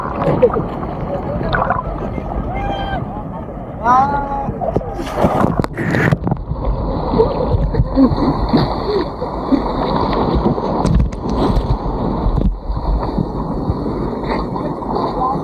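Splashing water as a small boat slaps into waves off a beach resort in Morong, Bataan, with loud churning spray, rushing wind on the microphone and the engine running throughout, while people shout and talk over it.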